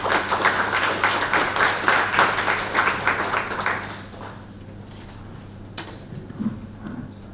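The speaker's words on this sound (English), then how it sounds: "Please give them a round of applause." Conference audience applause at a private networks summit, dense clapping for about four seconds that then fades to quiet room tone with a few faint knocks.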